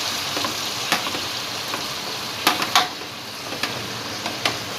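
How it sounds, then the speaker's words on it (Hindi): Chopped tomatoes sizzle in hot oil for a spicy chicken karahi, giving a dense, steady frying hiss up close with a few sharp pops and spatters scattered through; no talking. "अब मैं डालती हूँ इसमें टमाटर जो मैंने काट के रखे थे।"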